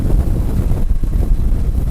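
Strong wind of about 45 mph buffeting the microphone in Castro Valley, California, a continuous loud low roar with gusty fluctuations throughout.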